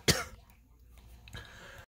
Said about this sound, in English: I had a coughing fit from talking so much